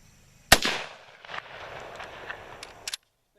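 A single sharp gunshot from a Swiss Schmidt Rubin 1911 carbine rings out with a decaying echo, followed by faint clicks and clatter of the bolt being worked.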